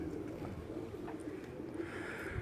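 A pigeon on a rooftop in Quetta, Balochistan gives soft, low, throaty coos against a faint background, with no talking.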